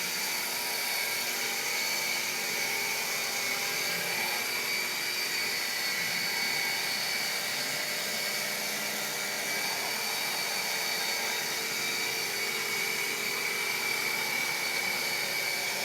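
A rotary buffer polishes car paint to a jewel finish, its motor a steady, close, whining drone with little pressure on the pad, running continuously without any voice.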